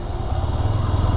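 A Yamaha R15 V3 Indian-version motorcycle engine while riding on a rainy day, a steady low rumbling drone with a fast pulsing rhythm, close and loud throughout the short stretch, no voices.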